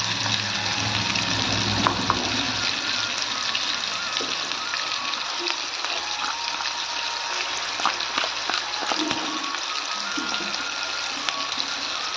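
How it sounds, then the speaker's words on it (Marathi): Ground masala paste frying in hot oil with cumin and mustard seeds for a ridge gourd bhaji, a steady loud sizzle with occasional stirring scrapes throughout, no talking. "तेल छान तापले टाकले आपण जिरे मोहरी यात टाकूया आपण मसाला आपण केलेलं वाटण"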